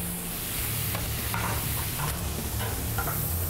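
Meat with tomato and onion sizzling in a hot pan: a loud, close, continuous frying hiss with intermittent clicks and scrapes from stirring, no talking.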